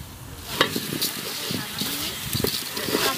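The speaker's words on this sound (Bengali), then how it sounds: "এবার ভিজিয়ে রাখা চাল আর ডালগুলো দিয়ে দেবে" Soaked rice and lentils hit spices frying in a pan for khichuri at a riverside winter picnic, producing steady sizzling and scraping stirs with irregular clatters, close and moderately loud.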